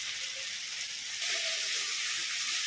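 Ground spices with turmeric, black pepper and Kashmiri chilli powder sizzle briskly in hot oil, lightly sautéed for a mutton head curry; a steady close frying hiss that jumps louder partway through as something new hits the pan, with no talk.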